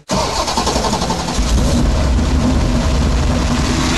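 A 9.3-litre V8 engine cranks and fires up, then settles into a loud, close, heavy rumbling idle with a deep steady throb and no talking.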